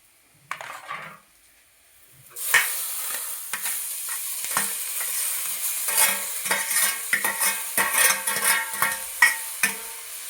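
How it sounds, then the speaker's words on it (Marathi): Scraping and clattering of a utensil stirring boiled wild greens into a spice mixture in a hot kadhai, with steady sizzling after a quiet start and repeated metallic knocks. "भाजी आणि मिश्रण यांना एकत्र करूच तर हलवूया आपण याला"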